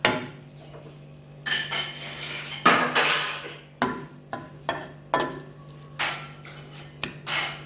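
Thai-style stir-fried noodles tossed in a pan with oyster sauce, dark soy sauce and garlic, heard as repeated sharp metallic scrapes and clanks of a utensil against the pan over a steady low hum, with no talking.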